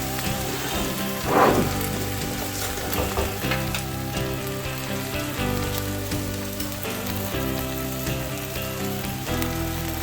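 Toast and a pork chop sizzle on a grill on a farm, a steady dense crackle running throughout with a louder burst early on and soft scraping stirs, no voices.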